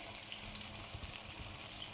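Iraqi lettuce kebab frying in a pan gives off a steady, quiet sizzle, a close, even hiss with faint crackles and no talking.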